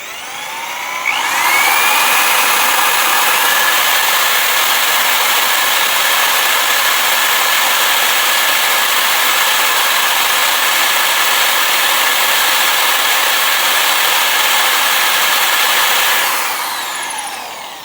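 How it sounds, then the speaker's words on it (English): A drill bores a small center hole through the metal of a 1978 Ford Mustang control arm: a loud, steady high-pitched whine starting after a second and holding evenly for about fifteen seconds before cutting off. "I'm going to drill a smaller center hole, then we're going to step up the size of the hole."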